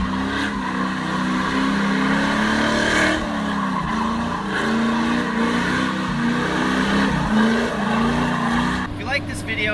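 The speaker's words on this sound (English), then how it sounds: "The motor runs beautifully." A home-built car's engine runs loud and steady for about ten seconds, a continuous low droning hum with slight rises and falls in pitch and a brief rattling burst near the end.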